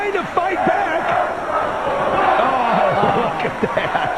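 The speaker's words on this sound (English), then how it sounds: "Listen to the chants from the crowd. Let's go, Shark Boy." Wrestling crowd at an NWA TNA live event chanting "Let's go, Shark Boy" in a dense, continuous roar of many voices, with a commentator talking over it throughout.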